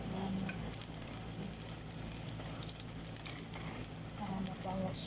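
Garlic and ginger aromatics sautéing in hot oil for a Filipino chicken adobo, a steady close sizzle and fry that runs throughout with faint stirring and light water sounds.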